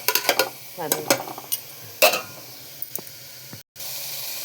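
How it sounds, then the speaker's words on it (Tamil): Onion, tomato and ginger-garlic masala being sautéed in a pan, with a soft sizzle under bursts of spoon scraping and stirring, briefly cutting out near the end. "இந்த மாதிரி செஞ்சு நல்லா வதக்கணும்"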